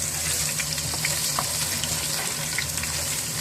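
Ginger-garlic paste sizzles in butter for Peshawari namkeen gosht, a steady close frying crackle with faint stirring clicks throughout and no voices.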